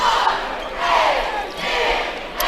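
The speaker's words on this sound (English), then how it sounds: "cheer squad giving it their best out there, whooping up their fans" Cheer squad and student section whooping and yelling at a high school basketball championship game, loud swelling crowd cheers rising and falling in waves through the whole stretch.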